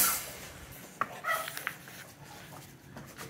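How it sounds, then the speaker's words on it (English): A dog gives a few short, faint barks and yips at a little boy, with quick sharp bursts in the first two seconds over a quiet background. "What is he barking at?"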